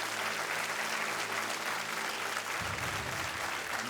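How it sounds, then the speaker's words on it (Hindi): A studio audience at a Kaun Banega Crorepati game show claps in sustained, even applause that fills the room and carries on without a break. "और तालियां बजती रहनी चाहिए।"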